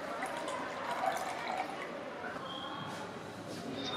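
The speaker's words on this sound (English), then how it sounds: "Do a tightness test by adding water." Water trickling and splashing steadily into a large glass prism, sealed with silicone, as it is filled for a leak tightness test, a soft continuous pour heard close up with no talk.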